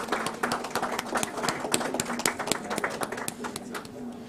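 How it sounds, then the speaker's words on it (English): An audience at an investment summit in Nepal applauds, with a steady patter of many hands clapping at moderate distance that carries on for several seconds over a faint background hum. "Let's give them a huge round of applause."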